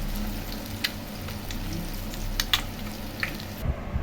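Onion egg bondas fry in hot oil, giving a steady soft sizzle broken by a few sharp pops and crackles, close and alone with no talk.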